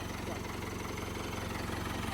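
A blue 5630 4x4 tractor idles nearby, its engine a steady, even rumble with a fast regular pulse and no change in pitch.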